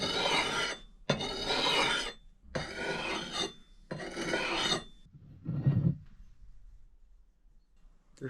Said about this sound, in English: now I need to hone a little bit more of an edge on this